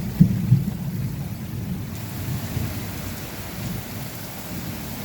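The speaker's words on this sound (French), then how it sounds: "la pluie qui tombe" Heavy rain pours steadily during a strong July thunderstorm in Montady, France, with a low rumble of thunder near the start and a constant dense hiss of rainfall throughout.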